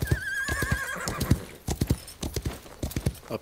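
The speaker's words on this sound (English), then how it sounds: "Get my cow colored horse to ride on out." Hooves of a cow-colored horse in a video game clip-clop steadily while ridden, close and fairly loud, with a short whinny near the start and game sounds around.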